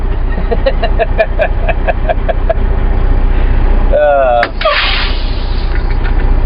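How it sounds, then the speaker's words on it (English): Loud, steady diesel rumble of a semi truck heard from inside the cab on a loaded run, a low continuous drone with a brief rising whine near the end. "That's why my truck is loud"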